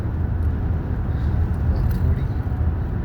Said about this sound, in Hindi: हमारी गाड़ी चल रही है